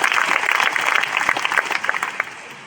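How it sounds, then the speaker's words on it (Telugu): A church congregation at a parish gathering in Guntur claps loudly together, a dense, steady burst of applause filling the room for a few seconds before thinning slightly toward the end. "అలాగే చిరునవ్వుతో ఒకసారి గట్టిగా చప్పట్లు కొట్టండి"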